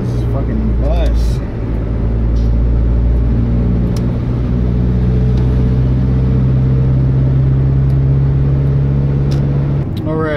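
A car engine hums and drives steadily at close range for about ten seconds while running a red light, with loud talk in the cabin over the low rumble.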